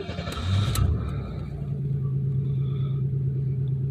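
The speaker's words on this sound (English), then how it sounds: "I'm gonna try and start it up again, see if it's running all right again still" A 1993 Chevy Lumina engine cranks briefly and catches, then settles into a steady low idle rumble that carries on evenly at close range.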